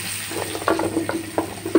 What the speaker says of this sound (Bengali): এই যে জলপাইগুলো এক একে তেলের ভিতর দিয়ে দিচ্ছি।